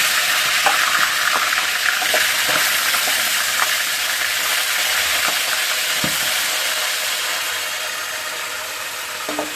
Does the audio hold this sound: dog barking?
no